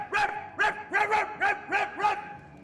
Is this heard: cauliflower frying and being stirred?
no